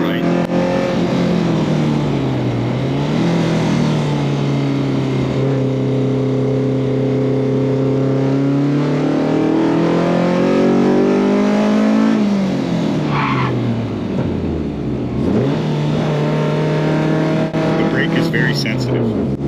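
Engine of a 1989 DTM champion BMW M3 E30 race car while driving, a loud, close, sustained engine note rising and falling through the gears, with a person talking over it throughout.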